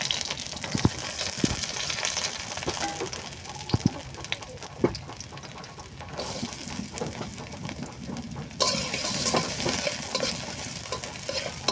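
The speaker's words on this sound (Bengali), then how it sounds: "এখন দিয়ে দিবে পেঁয়াজ কুচি।" Chopped onion frying in a pan crackles under repeated stirring, with scraping knocks and spatula strokes and a louder burst of sizzle near the end. The sound is close, with no one talking.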